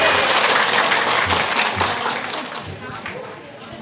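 An audience at a village religious gathering applauds the young village head, a sustained round of clapping that thins out toward the end, with voices mixed into the crowd noise.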